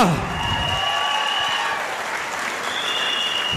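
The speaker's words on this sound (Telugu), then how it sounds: "ఒకసారి సలీం సార్ గ్రాండ్ క్లాప్స్ జోరుగా" Audience at a gathering applauds Saleem with steady, dense clapping that stays loud and even throughout, forming a full crowd ovation with no pauses.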